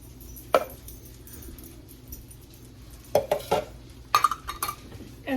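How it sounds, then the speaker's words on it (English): A spoon stirs a stiff mixture of peanut butter and powdered sugar in a bowl, giving a few scattered clinks and scrapes against the dish, quiet at first and then a brief cluster of sharper knocks near the end. "and then give it a nice stir"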